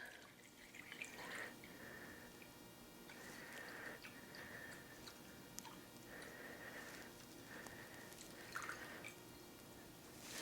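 Vodka trickles and glugs into a bottle for homemade vanilla extract, a quiet liquid pour with intermittent drips and gurgles, faint and close.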